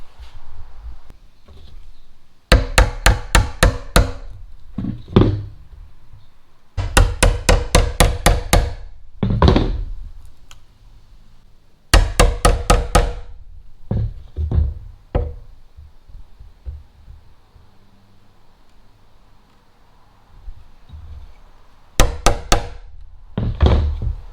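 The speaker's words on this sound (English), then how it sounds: "I'm going to go ahead and start chiseling, get this little channel for our RGB strip in" Hammer blows on a chisel cutting a small channel in wood for an RGB LED strip, close and loud, coming in rapid rhythmic runs of strikes broken by short pauses.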